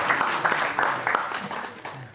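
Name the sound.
audience applause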